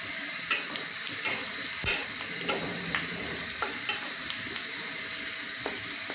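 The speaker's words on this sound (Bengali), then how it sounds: "এটা এখন ভালোভাবে একটু ভেজে নেব।" Onion, garlic, chilies and panch phoron frying in a pan while being stirred, with a steady soft sizzle broken by scattered clicks and scrapes of the spoon against the pan.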